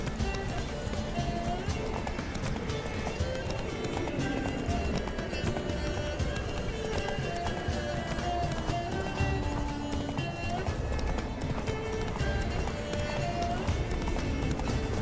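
Horse hooves gallop in a steady, rapid clip-clop rhythm that runs continuously, set within a dense layer of background sound from the game The Witcher 3.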